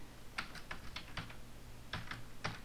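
Typing on a computer keyboard while text is entered into an HTML registration form field, heard as a near, quiet run of clicking keystrokes in two short bursts with a brief pause between them and no talk.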